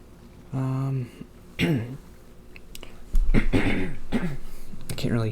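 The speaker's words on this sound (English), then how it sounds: "I gotta clear my throat" A man clears his throat in several rough, guttural bursts close to the microphone, spaced across a few seconds, with speech-like sounds mixed in.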